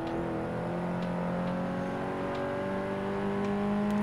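A car engine revs and accelerates in Forza Motorsport 6, a steady loud drone with rising harmonic tones that holds throughout, with no talk.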